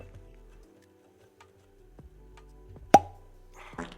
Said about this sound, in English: let's hear this cork pop